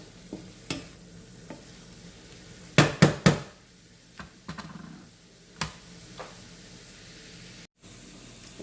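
Shredded cabbage is stir-fried in a pan for a Jamaican vegan dish, a soft sizzle broken by a cluster of sharp utensil knocks and scrapes, then scattered lighter stirring clinks, close and alone.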